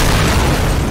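A Joker Javelin missile launcher in Modern Warfare 2 sets off an explosion: a loud, sustained, rumbling boom that fills the whole short moment, with no talk over it.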